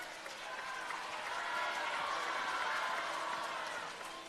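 Audience applause at a symphonic Yue opera concert in Shanghai, a steady wash of clapping from a large crowd that swells slightly midway and holds for several seconds.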